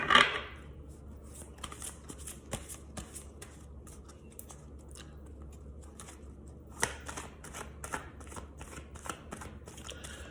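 Gypsy Oracle tarot cards being shuffled by hand, a steady run of soft riffling and flicking taps with a few sharper snaps, close and alone.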